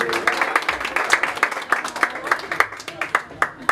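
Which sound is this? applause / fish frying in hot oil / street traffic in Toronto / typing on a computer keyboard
applause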